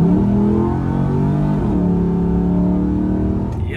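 A modified Pontiac GTO with an LS engine accelerates hard, a loud, steady engine drone climbing in pitch, easing briefly around a gear change before pulling again, heard up close with no talking.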